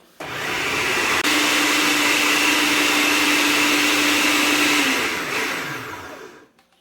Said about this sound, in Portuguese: Eu triturei aqui com um multiprocessador